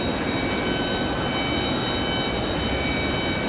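A Lufthansa airliner arrives at Raleigh-Durham International Airport, its engines producing a steady, even roar that holds at a constant level throughout, with no talking.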